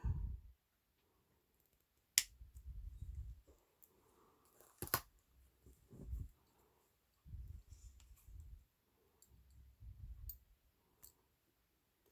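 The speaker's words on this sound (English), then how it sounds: "So we're going to snip it not too short." Jewelry wire for crystal woven earrings snipped with cutters, a few sharp, close clicks spaced apart over quiet handling noises and soft low thumps.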